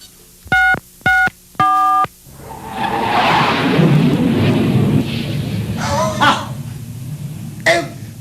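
A telephone at an auto parts store rings with an incoming call, three short electronic ring bursts close by, followed by a rumbling, noisy line and brief voice-like sounds.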